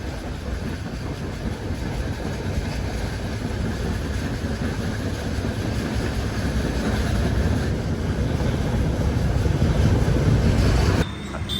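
Saurashtra Mail passenger train running steadily at cruising speed near Rajkot, a continuous loud rumble with faint wheel clatter heard from inside the coach, no talking.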